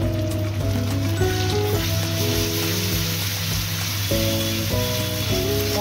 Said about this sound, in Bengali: পেঁয়াজটা ভেজে নিয়েছি। এর মধ্যে আমি যে মশলাটা মিক্সিতে বেটে নিয়েছি, আদা, রসুন, জিরে, ধনে, পেঁয়াজ, টমেটো সব আমি এর মধ্যে দিয়ে দিলাম।